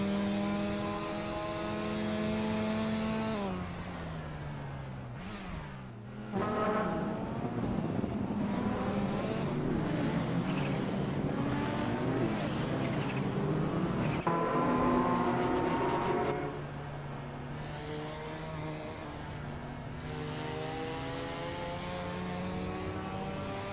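Race car engines in a racing video game, including a 1996 Dodge Stealth twin-turbo, roaring and revving with rising and falling pitch as cars accelerate and pass, steady and moderately loud with no talk.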